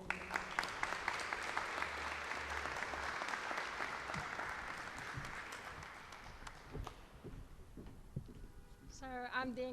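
Warm applause from an audience at a graduation ceremony, many hands clapping in a dense wash that gradually thins and fades, followed by a voice beginning to speak near the end.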